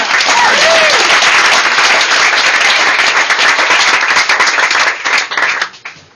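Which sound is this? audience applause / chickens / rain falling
audience applause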